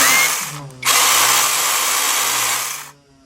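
A small Flinke cordless mini chainsaw whines loudly at high speed, dipping briefly near the start and then running steadily before winding down.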